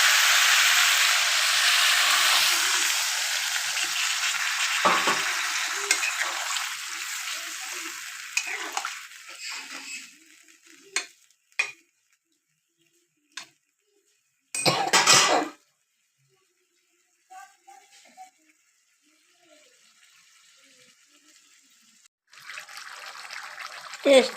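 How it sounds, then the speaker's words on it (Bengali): Water poured into a pan of simmering cauliflower and potato curry, where the oil has separated, makes a loud broad hiss and sizzle for about ten seconds. Then come quieter, scattered clinks and bursts of stirring. "গ্রাভি বানানোর জন্য দিয়ে দেবো হালকা জল"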